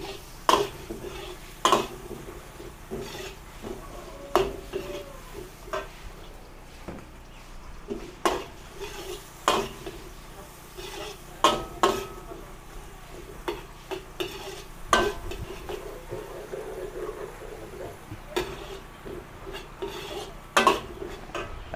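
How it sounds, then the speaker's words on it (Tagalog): Onions and garlic sautéing in a pan while being stirred, with steady sizzling and repeated scrapes and clinks of a utensil against the pan, close and moderately loud, no talking. "Pag mabangaw na ho ang bawang, medyo luto na, maglagay tayo ng sibuyas."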